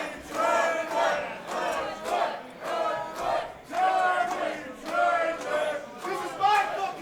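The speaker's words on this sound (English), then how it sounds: "you can hear the Elks Lodge crowd getting behind both of these warriors" A wrestling crowd packed into an Elks Lodge hall in Livonia roars and chants in rhythmic swells, with loud cheering surging in repeated waves throughout a big match.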